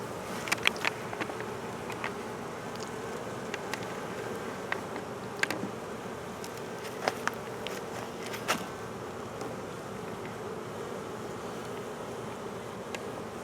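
Honey bees buzz steadily around an opened beehive during an apiary check, a dense continuous drone close by with a few sharper individual flights passing near, and no talking.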